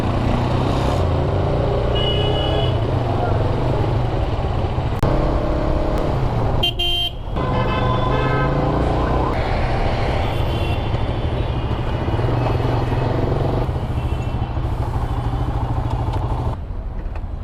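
Yamaha R15 V3 motorcycle riding on a highway, with steady loud engine drone and road rumble throughout, passing traffic and occasional horn toots, no talking.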